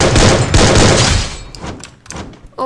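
A loud, close burst of rapid gunfire from a shooter video game fills the first second and a half, then trails off into scattered fainter shots and clicks.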